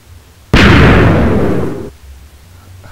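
A Minecraft cannon fires once, a single loud close blast that bursts suddenly and rumbles away over about a second and a half before cutting off into quiet.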